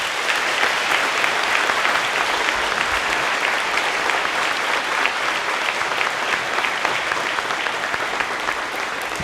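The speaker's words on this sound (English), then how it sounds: "Let's give them all a round of applause." Loud, sustained applause from a large audience at a school Veterans Day assembly, steady clapping filling the whole stretch without letup.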